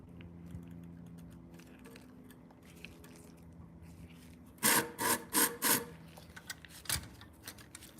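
A Shun kitchen knife drawn across a sharpening stone, with a quiet stretch followed by a burst of four or five loud, rhythmic scraping strokes and a few lighter scrapes near, recorded close and alone.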